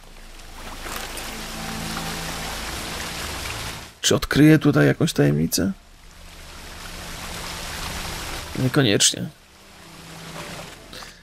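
A waterfall in The Witcher 3: Wild Hunt, played on PlayStation 4, gives a steady roar of falling water that carries on behind two short bursts of someone talking.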